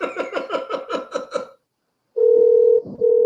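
Telephone call tones on a live podcast call: a quick run of about seven dialing beeps, a pause, then a loud steady ringback tone broken by a short gap, with no talking.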